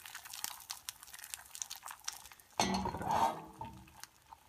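Eggs are pushed around a hot buttered pan on a new range with a utensil, giving soft scraping, clinks and a burst of sizzling crackle partway through, close and fairly quiet, with no talk.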